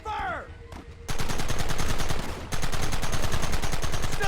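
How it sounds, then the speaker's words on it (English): Rapid gunfire from a Red Dead Redemption shootout rattles in dense, continuous bursts after a brief lull with a shouted voice, the shots loud and close, breaking off for a moment before resuming. "Fingers on the triggers, boys. There they are! Open fire!"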